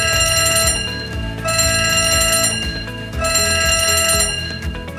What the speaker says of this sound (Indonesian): maka alarm tanda bahaya akan berbunyi